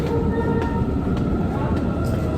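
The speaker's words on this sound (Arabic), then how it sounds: "احنا كل ده في المترو ولسه ما خرجناش" Steady, loud roar of a subway metro train in a station, with rumbling wheels and faint rhythmic clicks under a constant high whine, no clear voices.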